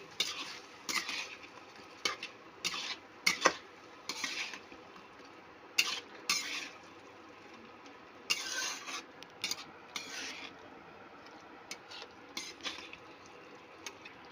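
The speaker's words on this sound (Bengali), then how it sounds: "এটাকেও আমি ভালো করে কষিয়ে নেব।" Chicken being sautéed in a pan with a turmeric and chilli masala paste for a yogurt chicken dish, with a spatula scraping and clinking against the metal pan in irregular bursts over a low, steady background, and no voices.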